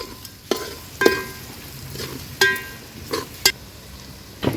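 Turmeric and Agri Koli masala fry in oil over a wood-fired stove for a mutton curry, with a soft background sizzle broken by several sharp, separate scrapes and knocks of a spoon against the pan.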